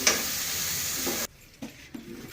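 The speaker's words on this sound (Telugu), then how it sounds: "దీనిలోకి ఉల్లిగడ్డలు టమాటాలు మిరపకాయలు ఉప్పు చేసుకొని బాగా ఫ్రై చేసుకోవాలా" Onions, tomatoes, green chillies and salt sizzle in a frying pan for a chutney, a steady loud hiss that cuts off abruptly, followed by a few faint stirring knocks.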